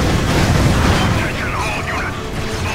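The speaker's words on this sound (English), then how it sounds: "Why is my gun shooting like a piece of shit?" Gunfire from a weapon in Ratchet & Clank Future: Tools of Destruction on PS3, a loud continuous stream of booming, crackling shots layered over game noise, with a voice talking over it.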